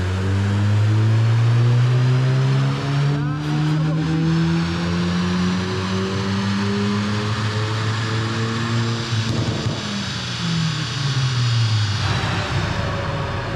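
An Alpine A110 car engine revs up and down in long sweeping pulls, loud and close, with rising and falling pitch and no talking.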